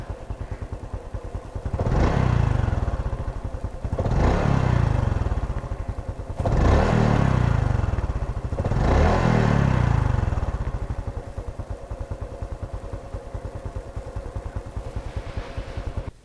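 Honda XRM 125 motorcycle engine, about three years old, idling and then revved four times in even bursts of about two seconds each, close and loud, settling back to a steady idle between blips with no talking.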